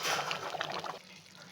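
Rice boiling in water in a pot on a high gas flame, a soft bubbling and gurgling simmer, fairly faint and close, fading toward the end.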